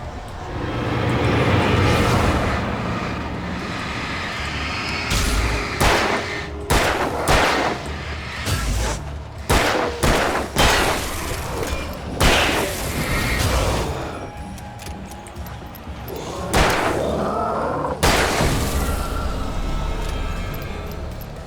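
Gunfire in the video game Alan Wake: loud bursts of shots and rapid volleys come in irregular clusters, separated by short lulls filled with a low rumbling background.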